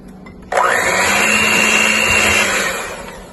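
An electric mixer whirs to life in chocolate cake batter after a brief quiet moment, then runs with a loud, steady motor whine for about two seconds before beginning to wind down.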